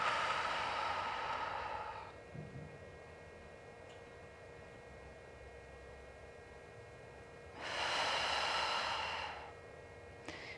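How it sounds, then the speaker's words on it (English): Slow breathing during a stretching routine for the lower back, shoulders and neck: a long airy breath at the start, a quiet pause, then another soft breath near the end, close and alone with no talk. "Inhaling through the nose and exhaling."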